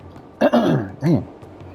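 A person clears their throat twice in quick succession, nearly coughing: a rough, close burst followed by a shorter second rasp, loud against a quiet background with no speech.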